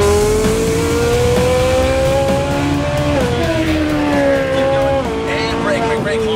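An exotic race car engine roars loud and close, rising in pitch as it accelerates with a brief shift dip midway, while people talk beneath the steady mechanical drone.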